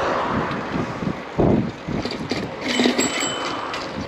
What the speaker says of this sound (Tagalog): Ibig sabihin yan, may kasamang hangin.